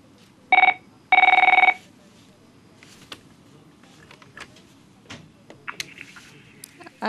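A telephone rings twice for a caller on a TV call-in program: a short electronic trill, then a longer one, both loud and close, followed by quiet studio room noise.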